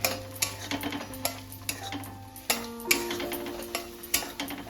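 Pea pod paste stirred and fried in a pan, with a spatula ticking and scraping against the metal in irregular strokes over a low sizzle, heard up close.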